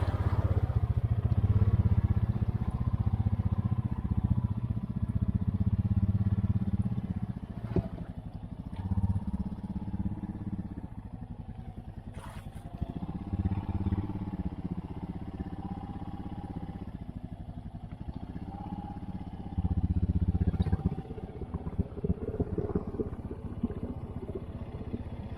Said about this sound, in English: let it cool down completely and see if it'll idle.